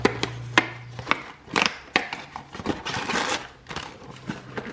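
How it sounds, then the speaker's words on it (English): A cardboard box of King Arthur gluten-free cookie mix being opened: a series of close, sharp taps, tears and crinkling rustles in an irregular rhythm, with a brief low hum at the start. "we're going to open this box and see what we get inside"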